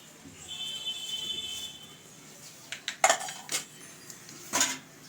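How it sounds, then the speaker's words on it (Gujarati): A knife cuts into a date biscuit for a winter sweet, giving a few sharp clinks and taps against a plate, spaced irregularly, close and moderately loud over a quiet room. "તો હવે આપણે આમાંથી એક ખજૂર બિસ્કિટ લઈ લઈશું અને તેમાં કટ લગાવી દઈશું"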